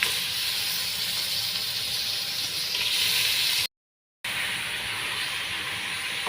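Raw prawns sizzling in masala with coriander powder in a pan for a Kuwait-style prawn and moong dal biryani: a steady, loud hiss of frying that runs continuously, broken by a brief half-second gap of silence.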